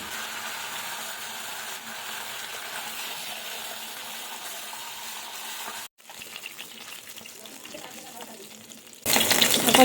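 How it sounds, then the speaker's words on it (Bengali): Katla fish coated in salt and turmeric fries in oil in a wok with a steady close sizzle, briefly dropping out before the frying surges louder and harsher at the end. "নুন হলুদ মাখানো মাছটা দিয়ে দিলাম"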